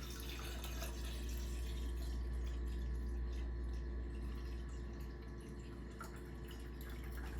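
Water poured from a tap into a clean container on a kitchen scale, a steady close trickle and splash with a faint low hum underneath.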